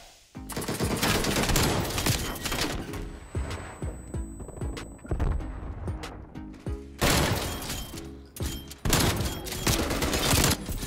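Rapid gunfire and bursts of automatic weapon fire in a Search and Destroy match of a shooter video game, dense, loud and nearly continuous with brief pauses between flurries.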